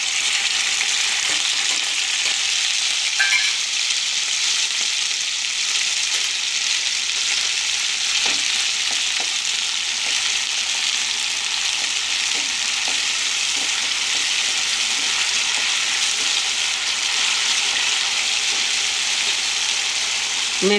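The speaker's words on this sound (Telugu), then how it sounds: "మెంతులు బాగా ఫ్రై అవ్వాలండి." Fenugreek seeds fry in a little hot oil for a tamarind-based curry, giving a loud, steady sizzle with faint occasional stirring clicks that carries on unbroken throughout, with no one speaking.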